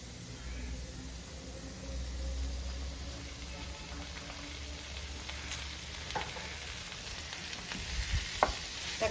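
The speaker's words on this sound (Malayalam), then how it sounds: "നമ്മുടെ സവോള നന്നായിട്ട് വഴണ്ട് വന്നിട്ടുണ്ട്. നമുക്കിതിലേക്ക് അരിഞ്ഞു വെച്ചിരിക്കുന്ന തക്കാളിക്ക് ചേർത്ത് കൊടുക്കാം." Chopped tomatoes hit sautéed onions in a pan for a Kerala-style tomato fry, giving a steady, moderately loud frying sizzle with occasional stirring clicks and scrapes, and no voices over it.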